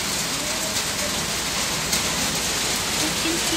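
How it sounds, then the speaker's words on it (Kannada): Rain falls steadily and evenly outdoors in Udupi, a dense continuous hiss of drops that stays loud and unbroken throughout. "ಚೆನ್ನಾಗಿರುತ್ತೆ ಇಲ್ಲಿ ಕೂತ್ಕೊಂಡು ಮಳೆ ಗಾಳಿ ಎಲ್ಲ ನೋಡಲಿಕ್ಕೆ"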